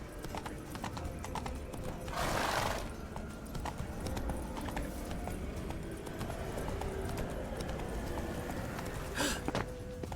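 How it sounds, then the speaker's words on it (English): Hooves of the horse Roach clip-clopping through The Witcher 3 video game, a steady trotting rhythm over ambient game sound, with a brief whinny-like burst early on and another near the end. "Whoa there, Roach."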